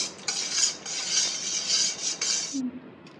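A spoon stirs a thick mango ice cream mixture in a bowl, making close, rhythmic scraping and swishing strokes that stop abruptly near the end.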